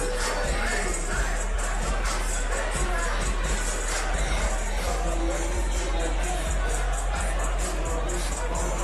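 A fight-night crowd roars and cheers wildly after a dramatic finish at an NFC bout, a dense sustained wash of arena noise with chatter mixed in.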